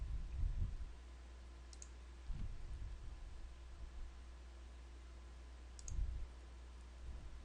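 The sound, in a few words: computer mouse clicking a button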